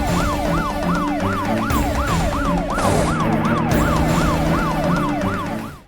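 A wailing emergency siren rises and falls in fast, steady cycles, loud and continuous over a rumbling vehicle engine, with no talk.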